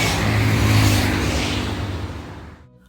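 Royal Enfield Meteor 350 single-cylinder motorcycle engine running steadily on a day and night highway ride, a loud continuous drone with wind rush that fades out near the end, with no voices.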